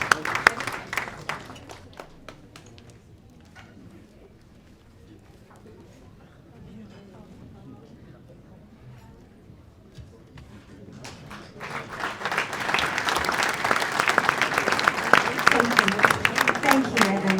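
Audience at a church banquet of St. George claps, with scattered claps at first, then a quiet lull, then a swelling wave of dense, sustained applause filling the room.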